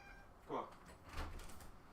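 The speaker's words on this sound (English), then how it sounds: "All right, my cat is crying now." A house cat crying to be let out, a short faint meow followed by quieter rustling or shuffling sounds nearby.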